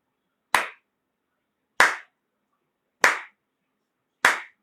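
Four sharp, single hand claps ring out alone at an even, slow pace, about one every second and a quarter, counting breaths during a yoga pranayama session, with silence between each clap.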